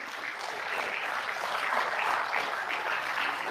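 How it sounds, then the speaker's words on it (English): Sustained applause from an audience at a research foundation launch and fundraising event, a dense, steady wash of clapping hands lasting throughout without a break and no voices over it. "Please, an applause there."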